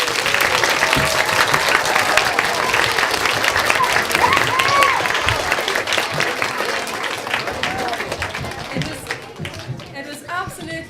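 A large audience breaks into sustained applause for children and a choir after a world-premiere performance, dense clapping and crowd noise that gradually thins toward the end, with some voices mixed in.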